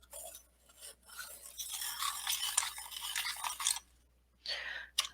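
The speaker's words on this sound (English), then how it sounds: "So I'm going to grab my pencil sharpener, and we're going to see how well these sharpen" A pencil sharpener grinds a dark brown colored pencil in short scraping bursts, close and quiet, with a few pauses between turns.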